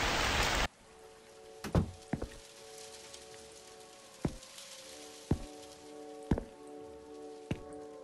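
Rain in The Convenience Store horror game falls as a steady patter on a surface, broken by sharp scattered drips and knocks, after a brief loud burst of noise at the start.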